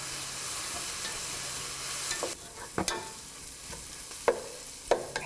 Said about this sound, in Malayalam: ഉള്ളി കുറച്ച് വാടിക്കഴിയുമ്പോൾ കട്ട് ചെയ്ത് വെച്ചിരിക്കുന്ന വെളുത്തുള്ളി ഇട്ട് വഴറ്റുക